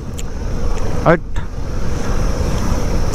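A heavy motorcycle jolts along a bumpy mountain road toward Upper Mustang in cold weather, with a steady roar of wind buffeting the microphone over low engine rumble and a brief voice in the middle.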